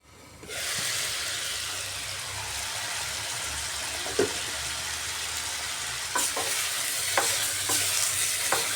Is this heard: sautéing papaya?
yes